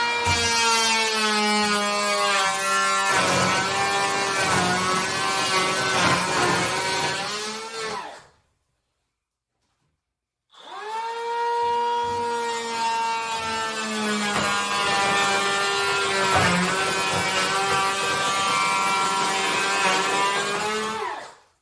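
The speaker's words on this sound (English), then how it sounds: "we do need a little bit more, so we're going to make a second pass" An electric power planer makes a second pass along a wall, its motor screaming with a steady high-pitched whine as the blades cut; the loud run stops briefly in the middle, then starts again and continues at full volume.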